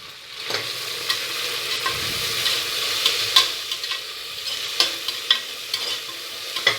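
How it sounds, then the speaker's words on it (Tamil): Cinnamon, cloves, mint and coriander leaves sauté in a pan for beef biryani, a steady sizzle with scraping stir strokes and small clicks of the spoon, close and alone. "பட்டை, லவங்கம் போட்டு புதினா இலை, மல்லி இலை போட்டு நல்லா வதக்கி விடணும்."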